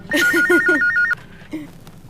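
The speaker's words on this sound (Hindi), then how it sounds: "सुनो इफ्तिखार पोपले का अगर फोन हो तो मुझे देना।" A telephone bell rings in a rapid warbling trill for about a second, then stops; a faint second burst follows briefly.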